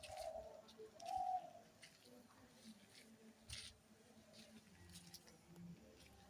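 Pigeons coo in a few soft, rounded bursts near the start, with quieter outdoor bird chirps and rustling continuing faintly afterward.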